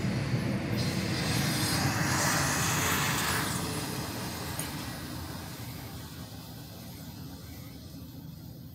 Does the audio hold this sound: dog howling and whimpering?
no